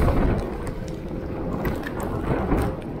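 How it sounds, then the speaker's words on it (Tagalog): Strong typhoon wind gusts buffet the microphone outdoors, a loud, rough roaring blast with fluctuating surges across the few seconds and no speech. "Sobrang lakas ng hangin, guys."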